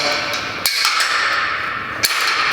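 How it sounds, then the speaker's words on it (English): Metal carabiner ears of a wide Y hang clipping into two climbing bolts, two sharp metallic clicks about a second and a half apart over a steady hissing background. "I'm going to clip one ear into one bolt and one ear into the other."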